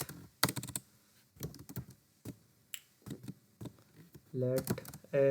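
Keys clatter in quick close bursts as JavaScript code is typed on a computer keyboard, with pauses between the runs, and someone speaks briefly between and over the typing near the end.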